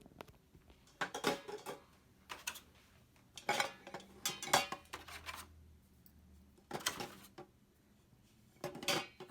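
Glass jars and eggs set down in an Instant Pot for dyed Easter eggs: a series of separate clinks and knocks with quiet gaps between, close by and fairly soft.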